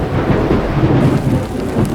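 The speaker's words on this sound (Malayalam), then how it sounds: "ഞങ്ങൾ പോയപ്പം നല്ല മഴയും ഇടിയൊക്കെ ഉള്ളൊരു സമയമായിരുന്നു" A deep rumble of thunder rolls through heavy rain on the route to a hidden waterfall in Palakkad, loud and continuous over the steady hiss of rainfall.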